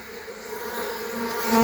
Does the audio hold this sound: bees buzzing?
yes